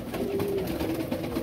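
A female Salara pigeon coos softly and steadily at close range, a low murmuring call with no talking over it.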